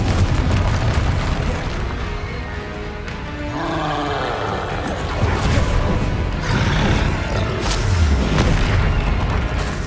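Casting the Confringo spell in the Hogwarts Legacy video game sets off booming, roaring blasts that rise and fall in loud bursts across the whole stretch.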